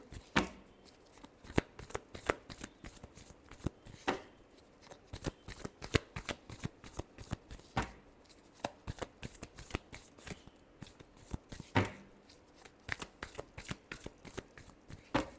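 Tarot cards shuffled by hand up close, a steady run of quick soft riffling flutters and taps that repeat rhythmically for the whole stretch, quiet with no talking.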